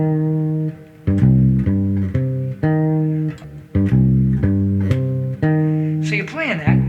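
Electric bass playing the introduction to a jazz standard, a repeated vamp of deep sustained notes in a steady rhythm, close and prominent, with a brief sliding flourish at the end.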